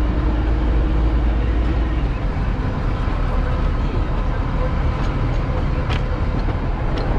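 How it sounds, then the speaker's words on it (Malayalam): A train slowly pulling into Kalka railway station, a steady loud rumble of wheels and carriages rolling continuously, with faint clanks and squeals rising above the noise near the end. "ഇനി മെല്ലെ സ്റ്റേഷനിലേക്ക് ഇഴഞ്ഞിഴഞ്ഞ് കയറിക്കൊള്ളു കേട്ടോ."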